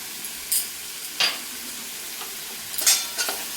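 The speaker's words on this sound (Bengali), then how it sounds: "টমেটো দিয়ে আর কিছুক্ষণ কষিয়ে নেব, যাতে টমেটোটা ভালোভাবে একটু গলে যায়।" Taro and tomato sautéing with spices in a pan, a continuous sizzle broken by several short scraping strokes of a spatula against the pan, close and distinct, with no speech.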